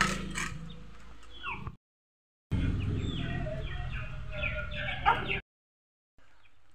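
A hen clucks with her chicks as they peep and chirp inside a basket. The calls come close and busy in two bursts separated by short silences.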